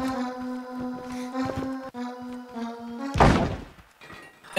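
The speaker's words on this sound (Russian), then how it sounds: "Так, Димас, вот это, кстати, построечка музыкальная." Musical contraption built in the game Scrap Mechanic plays sustained tonal notes with steady pulsing, broken near the end by a loud thudding impact and noisy burst, with no talking.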